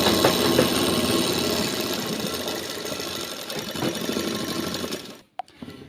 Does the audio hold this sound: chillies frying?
no